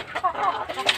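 A rooster gives a short, close series of clucks, loud and brief.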